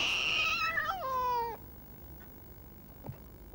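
A fighting cat lets out one loud, drawn-out caterwauling yowl that bends downward in pitch and then cuts off, leaving near silence with a couple of faint clicks.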